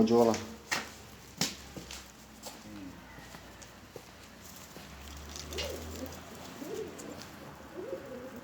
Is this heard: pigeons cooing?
yes